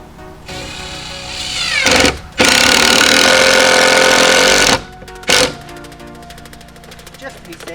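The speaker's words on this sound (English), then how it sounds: "I'm gonna go ahead and put 2 screws into each 2x4" A power drill drives screws into 2x4 lumber, with a rising whir that breaks into a long, loud, steady grind, then a short second burst. Fainter rattling tool noise runs before and after it.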